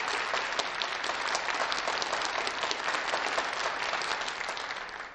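Audience at a Colorado Republican governor's debate applauds to welcome the candidates to the stage, a dense, steady burst of clapping that fills the room and fades slightly at the end.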